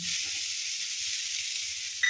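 Sattu frying together with potato, tomato and onion in a pan, a bright steady sizzle close by with soft low stirring scrapes throughout.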